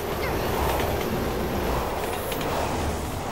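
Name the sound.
train passing in video game Resident Evil 6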